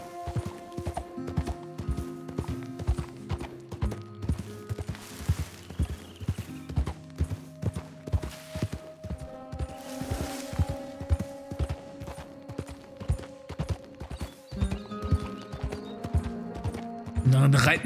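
Horse hooves clip-clop in a steady, even rhythm as a rider travels in the video game Red Dead Redemption 2, with a faint mechanical jingle and the occasional snort, while someone talks over it.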